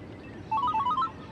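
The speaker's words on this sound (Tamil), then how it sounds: "ஃபோன் வருதுடா." A mobile phone ringtone plays a short melodic run of rising and falling tones, starting partway in and repeating a few notes clearly over quiet room background, with no talking.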